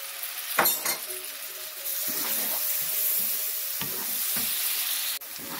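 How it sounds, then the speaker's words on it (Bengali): Cumin paste, curry powder and spices fry with chopped tomato in a pan, giving a steady sizzle broken by sharp scraping and clinking strokes of stirring at irregular intervals. "জিরা বাটা সবগুলো একসাথে ভেজে নিচ্ছি এবং দিয়ে দিচ্ছি একটা টমেটো কুচি।"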